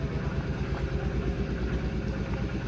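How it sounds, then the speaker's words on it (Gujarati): An auto rickshaw's engine runs with a steady, loud, rumbling drone close by, holding even throughout with no voices over it. "એ રિક્ષા આવી રિક્ષા"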